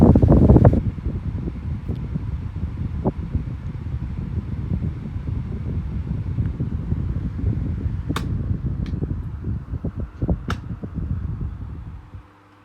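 A 2000s Lloytron 12-inch desk fan with a 45 watt motor, freshly cleaned and serviced, runs on low speed while oscillating, giving a steady close airy whoosh with a low motor hum and a few faint clicks.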